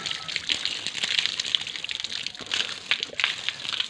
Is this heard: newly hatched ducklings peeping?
no